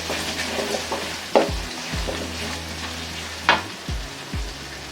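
Chopped onion frying in a pan for mango rice makes a soft continuous sizzle, with a few dull knocks and scrapes of the utensil scattered through it.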